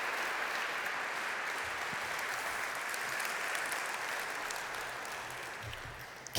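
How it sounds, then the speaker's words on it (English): An audience at a Sydney city-prosperity panel talk applauds the departing panellists, a steady sustained wash of many hands clapping, moderately distant, fading slightly near the end, with no voices. "Keep the applause going for them as they leave stage."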